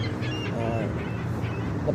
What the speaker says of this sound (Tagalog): Maingay yung ibon dito guys